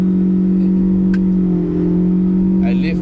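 A 2013 Proton Saga FLX 1.6 accelerates flat out on a Genting test drive, its engine a steady loud drone heard from inside the cabin, with brief voices over it.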